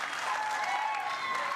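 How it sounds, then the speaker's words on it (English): A crowd applauds at a pickleball doubles match, a brief burst of dense, even clapping heard over a commentator's voice. "you deserve some extra applause on that one"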